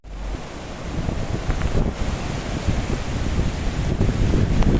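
Strong, freezing wind blows steadily by the sea during a storm, a loud continuous roar with buffeting gusts against the microphone and surf mixed in, with no voices.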